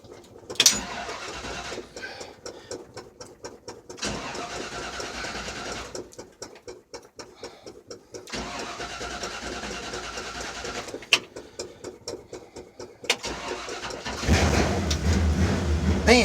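A 1969 Chevrolet C10 Stepside engine cranks in several separate bursts on a very hot day, with gaps between the attempts, before it fires and runs louder near the end.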